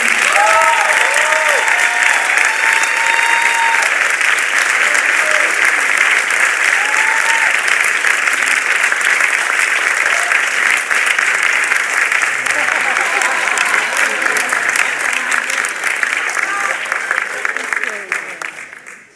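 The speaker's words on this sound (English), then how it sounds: "One more round of applause for these incredible..." Sustained audience applause at a book signing event with Michael Eric Dyson, Harry Belafonte and Shaun King, steady and full for nearly twenty seconds before tapering off at the end.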